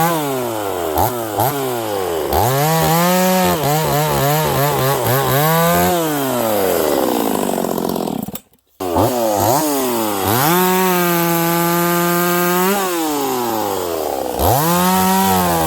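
A chainsaw with a freshly filed chain bucks through a log, its engine revving up and down repeatedly, loud and close. There is a short break, then a long sustained high-revving cut.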